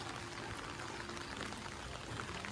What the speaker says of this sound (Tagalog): And it's raining, man.